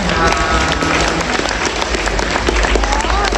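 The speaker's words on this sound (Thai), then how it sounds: "เสียงปรบมือให้กับนักกีฬาสองทีม" A crowd at an elephant football match applauds the two teams, steady clapping from many hands filling the whole short stretch, with a voice faintly under it.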